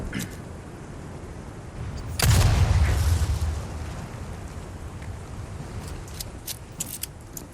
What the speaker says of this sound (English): how realistic the gunshots and explosions sound in this game